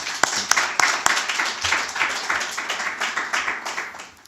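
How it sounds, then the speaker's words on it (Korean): A church congregation applauds during a Sunday service: a few sharp early claps swell into steady, moderately loud clapping from many hands that gradually thins toward the end, with faint voices underneath. "우리 박수로 우리가 격려하면서 축하해 주기 바랍니다"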